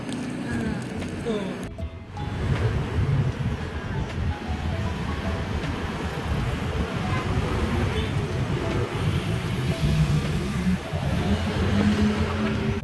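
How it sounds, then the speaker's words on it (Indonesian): Inside a moving city bus in Medan, a steady, loud engine and road rumble drones without a break, with traffic noise mixed into the cabin sound. "Sekarang kami sudah berada di dalam bus lagi."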